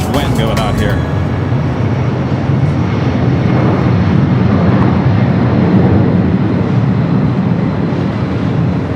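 A jet taking off from runway 24 left at LAX roars steadily and loudly through the whole stretch, a broad continuous engine rumble with a brief higher whine at the start, and faint radio-style talk underneath.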